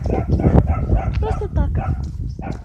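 Outdoors on a country walk near a turn toward a cemetery, a dog barks a few times over close conversation between walkers.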